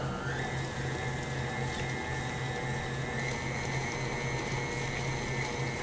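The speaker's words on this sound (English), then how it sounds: "Put your mixer back down in and mix well." A hand mixer whirring steadily through a black bean dip seasoned with black pepper, cumin, red pepper flakes and dried oregano, a continuous close motor whine with a grinding edge and no talk.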